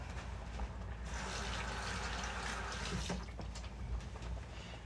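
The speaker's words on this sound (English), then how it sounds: "Give my hands a quick rinse." Hands rinsed under a running kitchen tap during chicken adobo cooking, a quiet steady splash of water that swells after the first second and continues evenly to the end.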